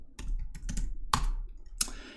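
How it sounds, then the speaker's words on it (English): Keys on a computer keyboard are tapped in a terminal: a handful of separate, close keystrokes with short pauses between them, the heaviest one near the middle. "I'm typing this directly in the terminal"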